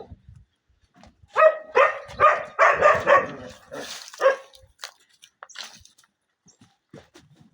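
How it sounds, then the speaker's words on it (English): Security dogs on a farm barking, a run of sharp close barks in quick succession, then a few fainter yips and scattered barks trailing off. "Here are our dogs. These are for security purposes."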